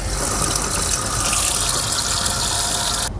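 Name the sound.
water running from a sink faucet being turned on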